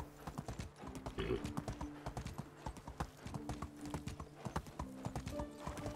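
Horse hooves clip-clop steadily in the medieval life-sim game Medieval Dynasty, a close, rhythmic run of hoof strikes with a brief whinny near the start and no talk.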